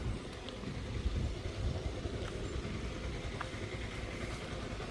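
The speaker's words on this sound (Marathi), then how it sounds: "तो मोठो आवाज येता ना तो सगळ्यात जुनो ट्रॅक्टर आहे" A low, old tractor engine rumbles steadily throughout, with a loose, chugging drone and a faint windy hiss over it.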